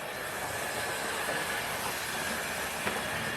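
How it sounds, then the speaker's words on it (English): An Airfix model train runs along the track pulling a Siphon H wagon, giving a steady, faint rolling hiss and rattle with a light click near the end, continuous and without speech. "Okay, so it's pulling an Airfix Siphon H, Great Modern Railways."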